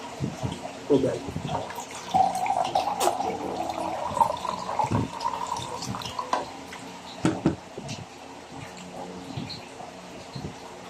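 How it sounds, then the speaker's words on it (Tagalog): Running water pours steadily with splashes and drips, as from a tap or tub, close by; someone speaks briefly over the flow. "Tubig."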